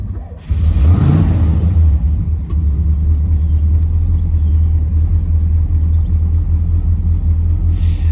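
A third-generation Camaro with a carburetted engine and long tube headers, heard from inside the cabin: a loud, deep exhaust rumble that starts abruptly, swells briefly, then settles into a steady idle.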